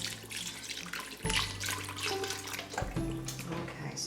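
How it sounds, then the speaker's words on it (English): Chicken broth pours steadily into an Instant Pot for pasta, a close liquid splashing and gurgling for about four seconds, with a brief shift in pitch partway through and no talking. "I'm going to be adding my chicken broth."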